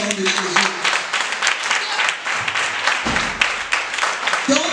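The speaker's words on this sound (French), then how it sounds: "Acclame pour toi-même d'abord au nom de Jésus." A church congregation claps and applauds together in a dense, sustained burst of clapping, with voices mixed in throughout.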